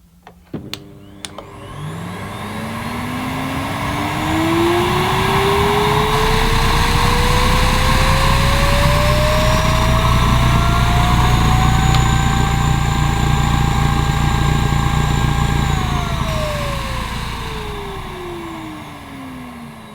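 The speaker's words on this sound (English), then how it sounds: "it seemed to peak at around 90, which isn't bad for a 750 watt vacuum cleaner" A Morphy Richards Family and Pets 750 watt vacuum cleaner switches on after a few clicks, its motor whine rising steadily to a loud, close, sustained drone before pitching down as it winds off.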